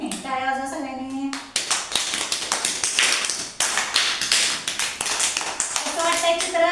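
Children in a classroom clapping their hands together, loud sharp claps in a quick rhythm, with a voice and brief talk before and after.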